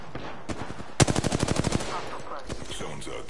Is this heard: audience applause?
no